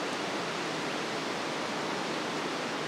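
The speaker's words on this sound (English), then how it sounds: "the noise of the wind blowing through the leaves is pretty loud" Wind blows through the leaves of a shade tree on a farm, a steady, loud, even rushing hiss with no breaks or voices.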